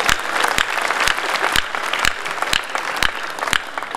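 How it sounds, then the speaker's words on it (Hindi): An audience at a Hindi comedy and satire poetry gathering claps loudly in a dense burst of applause, with sharp, rhythmic louder claps landing about twice a second over the crowd's steady clapping. "एक बार ताली बजा कर बताएं यहाँ।"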